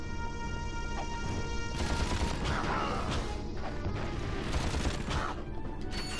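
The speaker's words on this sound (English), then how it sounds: "Shot out 5 bullets at him" Rapid blaster gunfire from Ratchet and Clank, a dense continuous volley of loud shots with crashing impacts throughout, alone without talk.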